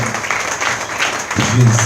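A church congregation claps during a Lingala- and French-language healing service, with steady applause throughout that swells near the end, mixed with some crowd voices.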